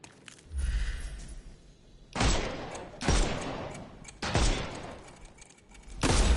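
Four heavy, booming gunshots in Sherlock Holmes: Chapter One, spaced about a second apart, each a loud sharp blast followed by a short fading tail, with no talk over them.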